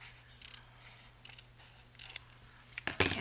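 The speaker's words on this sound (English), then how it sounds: "I'm going to trim just a smidge" Scissors snip through the bottom edge of a paper tag on a crafting desk, a few quiet cuts followed by a sharper, louder crisp snip at the end.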